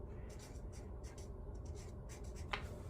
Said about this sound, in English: I'll write that in here.